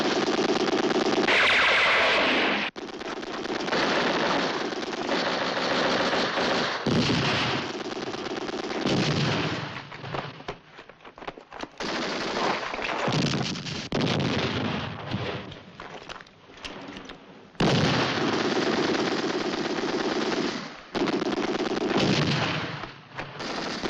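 Mortar bombardment and gunfire in a war film about the battle of El Alamein, loud dense blasts and rumbling barrages filling the scene, broken by brief lulls, with wind noise and no talking.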